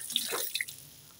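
Cold water splashes and drips briefly over a hand, a few quick close droplet hits and a short gush that fades into quiet.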